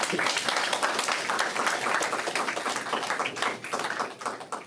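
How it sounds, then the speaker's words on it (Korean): Dense audience applause at a Seoul youth policy forum greeting Professor Kim Jin-ho, many hands clapping in a loud, continuous roar that holds steady throughout. "한국방송통신대학교 김진호 교수님을 박수로 맞이해 주시기 바랍니다."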